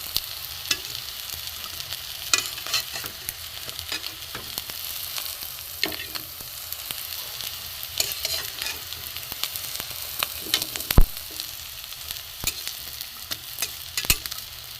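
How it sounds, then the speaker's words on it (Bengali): Bitter gourd kebabs fry in a shallow layer of oil, a steady close sizzle with frequent sharp crackles and pops and occasional utensil clicks. "এগুলো যেগুলো আছে একটু কড়া করে ভাজা হোক, হালকা তেলে"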